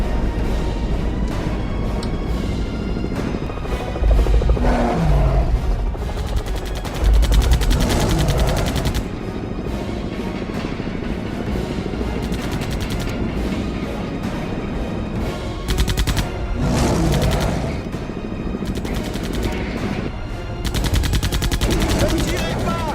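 Bursts of loud gunfire in a film scene, rapid volleys and machine-gun rattles going on and off over about twenty seconds with shouting voices mixed in.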